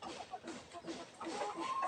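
Shamo and Black Australorp chickens cluck softly in a farmyard, with scattered low calls and faint chirps amid quiet background noise and a hint of distant voices.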